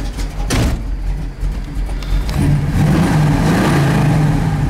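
A 1970 Pontiac Firebird pulls away, its engine building from a brief rev into a loud, sustained drone as the car drives off, heard from close by with no talk.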